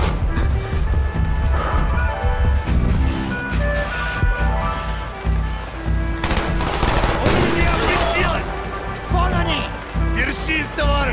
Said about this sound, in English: You're getting shot up!